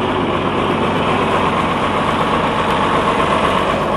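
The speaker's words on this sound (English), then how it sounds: "I really, really like this tractor. Crank right up." Diesel tractor engine running steadily at idle on a cold day, a loud continuous rumbling drone with no breaks.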